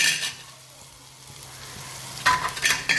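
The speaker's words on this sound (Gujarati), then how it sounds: "આપણે ડબલ તડકા નહીં કરી, એક જ તડકામાં વ્યવસ્થિત આપણે મસાલો કરી દીધો છે" Spices (red chilli, garam masala, coriander-cumin, turmeric) frying in oil for a dal tadka, a soft sizzle with stirring that swells to louder hissing bursts near the end, close and without speech.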